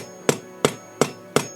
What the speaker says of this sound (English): we'll take our 8-ounce hammer right now and start hammering away